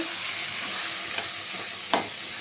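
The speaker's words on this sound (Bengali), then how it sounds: "এবার এটা ভালো করে কষাই আস্তে আস্তে" Taro leaves with prawns and chillies stir-fried in a pan, giving a steady close hiss of frying with a couple of short scraping stirs, the sharper one near the end.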